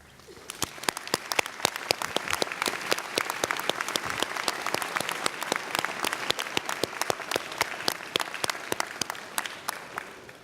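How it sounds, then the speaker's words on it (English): Commencement ceremony audience applauding, a large crowd clapping steadily at moderate loudness with sharp, distinct claps standing out from the dense wash throughout. "would you please rise and honor them with a round of applause"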